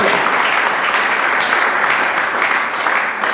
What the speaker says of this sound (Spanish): Debe palmas al Cristo de la gloria